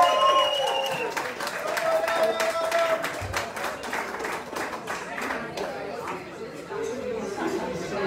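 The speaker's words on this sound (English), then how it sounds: "a round of applause for the bar staff!" A pub audience at a live gig in Whiski, Edinburgh claps for the bar staff: steady, brisk applause from a modest crowd that fades somewhat over several seconds, with chatter mixed in.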